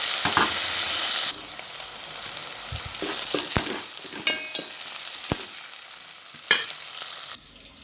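Onions sautéing in a pan for chicken curry sizzle and fry steadily, with a louder burst at the start and scattered scrapes and clicks of stirring throughout.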